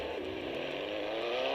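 A Yamaha XJ6 motorcycle engine roars continuously in the game GTA San Andreas, a steady, fairly faint high-revving drone with no pauses.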